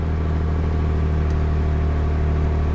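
A car engine idles steadily after being started by pressing the clutch, a continuous low rumble holding an even, close, fairly loud tone with no talk over it.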